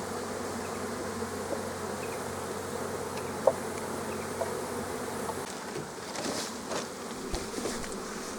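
Honey bees pour out of hive frames taken from a honey super, filling the air with a steady, close swarm hum that rises and falls slightly, joined by a few faint clicks and handling noises near the end.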